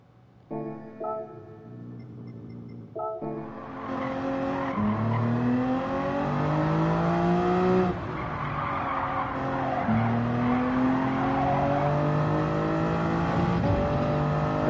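A GR3 race car cornering at Grand Valley in Gran Turismo 7: a loud, steady engine drone with gear changes and pitch sweeps, and tires squealing through the corners.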